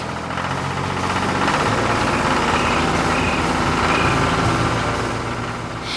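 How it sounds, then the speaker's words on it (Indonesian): A large tractor with wide tyres drives over tilled farm soil, its engine running with a steady, loud diesel rumble and knocking throb that holds constant throughout. "Traktor besar dengan ban lebar berjalan di atas tanah yang telah diolah"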